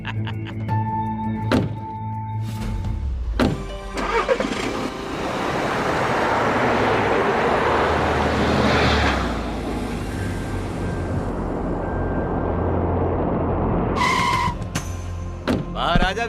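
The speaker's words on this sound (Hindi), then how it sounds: "आ गया विवेक, चल बैठ जा गाड़ी में जल्दी" Car engine starting and the car driving off, with door thunks and clicks first, then an engine revving up into a sustained driving roar that eases, with more thuds toward the end.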